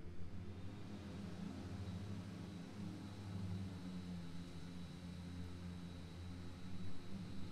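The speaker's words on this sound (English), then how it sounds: "We're going to turn on the blower and we're going to blow out the return lines." A blower runs steadily while it forces water out of swimming pool return lines, giving a constant low roar and hiss at moderate distance with no pauses.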